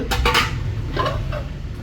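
Metal pots from a lidded cookware set are handled close by, clanking and ringing in a quick cluster of clinks, followed by a few softer knocks.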